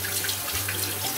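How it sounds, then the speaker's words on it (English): Hot water runs steadily from a bathroom tap into the sink while shaving, a close, even rushing stream with no pauses. "you gotta get some real hot water"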